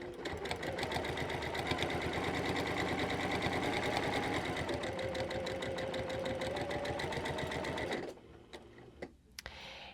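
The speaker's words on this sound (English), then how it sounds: "I just kind of scoot this over and sew around the curve" Sewing machine stitching fabric around a curve, a close, loud, steady rapid mechanical whir and ticking needle rhythm that runs for several seconds before stopping, leaving a few faint clicks and handling sounds.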